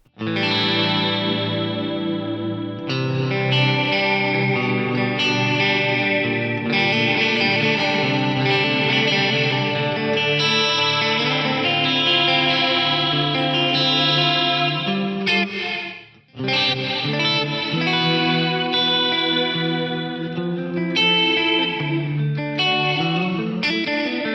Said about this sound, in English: So now I've got that kind of slapbacky detune into the diff chorus.